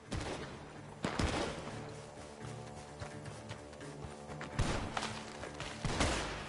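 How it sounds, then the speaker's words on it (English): Gunfire cracks out from a barn during a Red Dead Redemption 2 shootout, with several sharp, loud shots scattered across a busy background of game ambience, including what may be hoofbeats. "The gunshots are coming from that barn."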